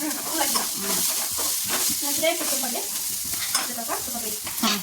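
Onions frying and being stirred in a pan for egg bhurji, a steady broadband sizzle with repeated scraping stirs throughout, close and fairly loud, with faint voices in the background.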